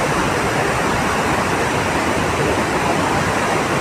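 The Vaigai river near the Madurai overbridge pours from an opened dam in a dense, roaring rush of flowing water, loud and constant with no pauses and no voices.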